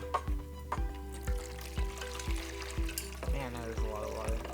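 Water drains out of a test chamber in quick repeated gushes and splashes, each pulse glugging out in a steady rhythm, close and fairly quiet.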